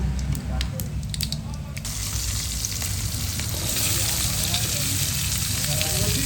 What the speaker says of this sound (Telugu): పచ్చిమిర్చి అయితే వేసింది గైస్.